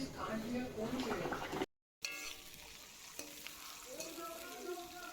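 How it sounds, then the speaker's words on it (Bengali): Chopped vegetables fry in a pan, a steady sizzle with stirring throughout, briefly cut off once, while background talk and household noise carry on. "সবজিগুলো একে একে ফ্রাই করতে লেগে গেলাম।"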